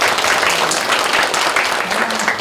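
An audience at a Korean meditation event's opening ceremony applauds in a dense, steady round of clapping that fills the whole stretch without letting up.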